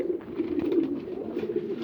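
Low, throaty cooing from a sick pigeon rolls on steadily throughout, close and moderately loud, with soft rustling behind it.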